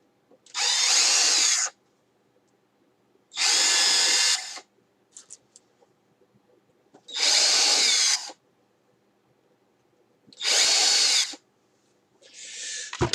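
A power drill drives wooden screws into a modular rack, running in four loud, steady whirring bursts of about a second each, separated by quiet pauses, with a final burst starting at the end.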